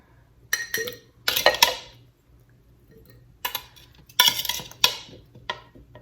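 A spoon scoops potatoes into glass canning jars in a series of clinks and scrapes. The sounds come in several clustered bursts with quiet gaps between them and are close and distinct, with no talking.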